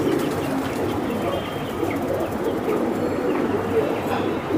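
A flock of fancy (pankhi) pigeons coos continuously in a dense, close murmur, with occasional wing flaps and chirps in a busy loft.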